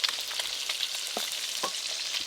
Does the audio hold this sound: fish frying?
yes